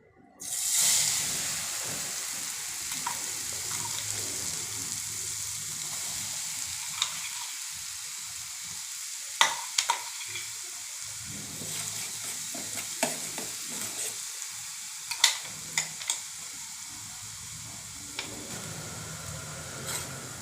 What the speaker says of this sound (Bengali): তেল গরম হয়ে গেছে, এবার এর মধ্যে কারি পাতা দিয়ে দেবো।